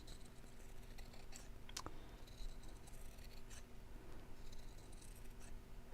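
Scissors snip through fabric during a sewing session, a few crisp close cuts and rustles over a steady low hum, with no voices.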